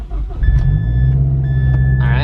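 Mazdaspeed 6 with a newly fitted front-mount intercooler cranking and firing up, then settling into a loud, close, steady idle, with a high warning chime beeping twice over the engine.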